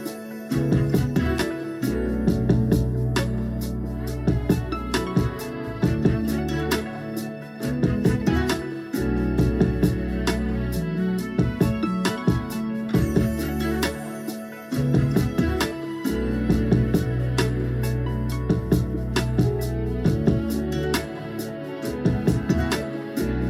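An R&B beat with sparse electric guitar plays on, with a heavy low bass and a steady looping drum pattern carrying sustained chords, full and continuous with no talking.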